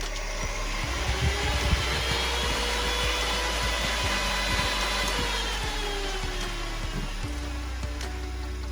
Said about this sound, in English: I'm going to hold the throttle wide open and hit the starter a couple times